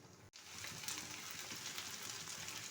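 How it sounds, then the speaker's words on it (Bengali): Spice paste with turmeric frying in a pan, a steady close sizzle that crackles on without a break after a tiny gap at the start. "এবারে দেওয়া হলো পরিমাণ মতো হলুদ। মশলাটা বেশ কিছুক্ষণ কষিয়ে নিন।"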